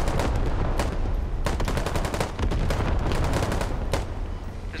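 Machine gun fire in the tactical shooter Squad: rapid, loud bursts of automatic shots in several runs, close by and dominating, with no talk over them.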